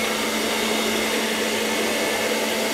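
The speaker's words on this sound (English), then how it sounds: "it'll be interesting to see how this robot does cleaning powder." A Chuwi ILIFE V5S robot vacuum cleaning up baby powder gives a steady, close whirring hum that runs unbroken throughout, with no talking.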